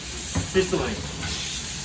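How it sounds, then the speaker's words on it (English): Mushrooms sizzle and crackle in a hot pan, a steady frying hiss with a couple of brief stirring sounds, while stir-frying for Cantonese sticky rice. "You kind of wanted to hear the sizzling,"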